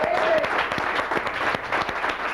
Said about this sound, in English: So, hey, guys, give yourselves a round of applause.